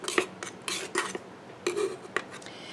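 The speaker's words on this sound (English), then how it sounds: "I'm just going to use this to stir, and chop up my shea butter so it'll melt quicker." A utensil stirs and chops shea butter in a pot, giving a series of irregular metallic scrapes and clinks against the pot's sides and bottom, fairly close and moderately loud, with no talking.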